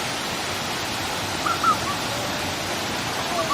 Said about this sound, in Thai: เปิดน้ำไหลลงมาจากด้านบนนะครับ